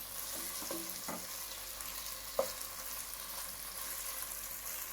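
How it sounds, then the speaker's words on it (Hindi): Garlic ginger paste fries in a pan over medium flame for mutton ginger karahi, sizzling softly and steadily, with a few brief scraping stirs early on and one sharp clink partway through. "लहसुन अदरक का पेस्ट डाल के व्यूअर्स 5 से 6 मिनट के लिए अच्छे से इसे मीडियम फ्लेम पे"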